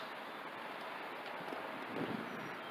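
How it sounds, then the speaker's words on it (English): Steady, faint wind rushes and buffets across the microphone at Deep Creek Lake in April, with a soft rumbling gust near the end and no voices. "Another windy day."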